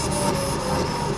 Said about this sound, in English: let's go ahead and do that on the printer and see what that sounds like.